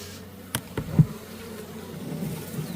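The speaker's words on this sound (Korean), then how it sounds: "여기 이렇게 벌이 좀 있습니다" Honeybees buzzing in a hive opened after three months of overwintering in a cold storage room, a soft steady drone from close by, with a few light knocks and handling noises near the start.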